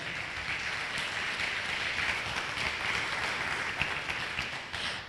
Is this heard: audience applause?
yes